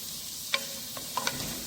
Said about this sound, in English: Now we are going to add chopped green chilies.